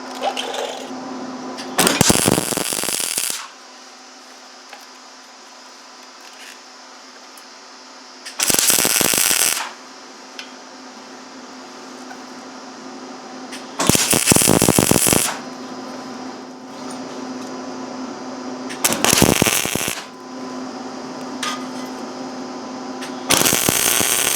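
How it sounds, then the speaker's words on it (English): A washer is welded onto a steel plate while repairing a fertilizer spreader: five harsh crackling buzzes lasting one to two seconds each, separated by longer quieter stretches with a faint background hum, close and loud. "I'm going to weld this washer to this plate so that part don't wear out"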